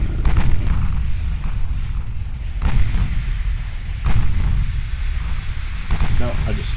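A torpedo striking a warship in Ultimate Admiral Dreadnoughts, heavy booming impacts and rumbling explosions recurring every second or two, loud and deep, with a voice speaking over the battle noise.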